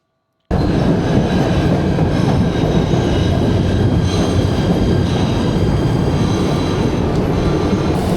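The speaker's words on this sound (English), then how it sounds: "This is the train to Hoboken." A New York City train to Hoboken rumbles past loudly and steadily after a brief silence, a continuous heavy roar of rolling wheels with no talking.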